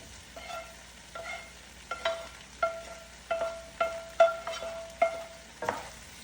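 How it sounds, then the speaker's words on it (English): Okra stirred in a pan after tomatoes, a faint steady sizzle under a series of about ten sharp scraping strokes of a utensil spaced roughly every half second, close and quiet, no voices. "Now I'm going to add the okras."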